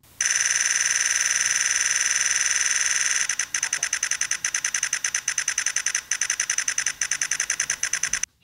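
High electronic whine of a Nikon Z9 buffering onto a Sony CFexpress Type B card, steady for about three seconds, then breaking into a fast string of pulsing clicks with occasional brief gaps, no talking.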